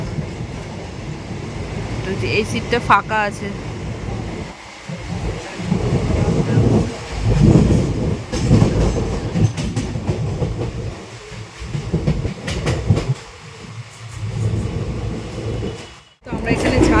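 A passenger train rattles along past Dum Dum station in light drizzle, with steady rumbling and clickety-clack of the carriages, brief squeals, and a passenger speaking over the noise at close range.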